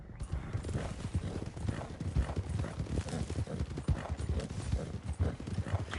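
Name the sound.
horses' hooves in Red Dead Online, video game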